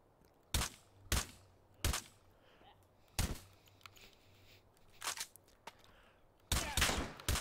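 Gunfire in the VR shooter H3VR, with Sosig enemies as targets: loud, sharp shots come singly and in short bursts at irregular intervals, separated by quieter gaps.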